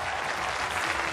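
A stage comedy audience clapping, a brief dense burst of applause from a crowd, fairly distant and even.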